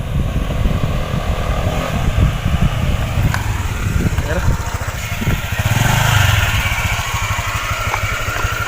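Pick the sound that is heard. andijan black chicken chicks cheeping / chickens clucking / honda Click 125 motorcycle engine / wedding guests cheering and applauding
honda Click 125 motorcycle engine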